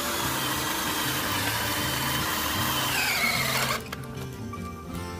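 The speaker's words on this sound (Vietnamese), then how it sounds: "Lắp vô con máy rồi mình khoét thử hai khúc gỗ này còn sao nha em" DEKTON D21 MK13 cordless drill with a 13 mm auto-lock chuck boring into a block of softwood, a steady loud whirring drone that drops in pitch and level near the end as the bit breaks through.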